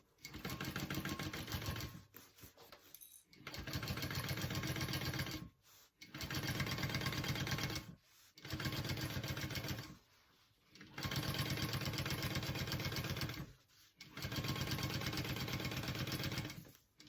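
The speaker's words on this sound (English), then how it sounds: "You're just going to press this up and we're going to top stitch." Sewing machine topstitching a tote bag lining, running in several steady bursts of loud, continuous mechanical whirring separated by short pauses.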